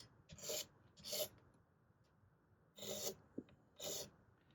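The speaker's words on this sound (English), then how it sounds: "I like to scrape towards me, and all I'm basically doing is getting the dirt off of it." Rasping scrape strokes across a dirty rosewood fretboard on a flame Telecaster-style guitar, four short close strokes in two pairs separated by a quiet gap, faint overall with no voices.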